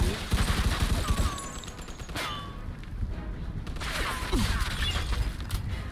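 Bursts of gunfire in the video game Mafia 2 Definitive Edition, several clusters of shots with metallic mechanisms and clattering under a constant rumbling game soundscape.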